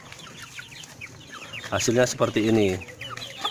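Five-month-old Joper hens, bred from Bangkok fighting-cock stock, give loud drawn-out clucking calls close by, over quiet background clucks, with brief speech near the end.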